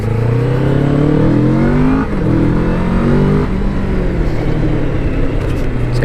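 Kawasaki Vulcan S 650 cruiser motorcycle running while ridden, a steady, grunty engine drone with rising revs and a short dip around two seconds, loud and close throughout.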